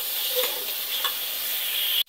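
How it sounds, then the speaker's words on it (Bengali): Onion and garlic paste fries in hot oil, a close, steady sizzle with a few brief stirring scrapes mixed in and no talking. "এখন পেঁয়াজ আর রসুন একটু ভাজা নেব তেলের উপরে"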